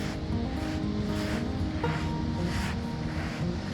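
Ocean waves breaking on the beach at Praia do Areão in Portugal, a steady loud wash of surf with rolling swells and wind noise throughout, no voices.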